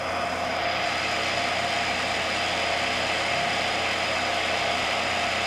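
A Schaublin ESO-100 high-precision Swiss centerless grinder runs with a steady, even mechanical hum and broadband whir. The sound is continuous and moderately loud, with no talk over it.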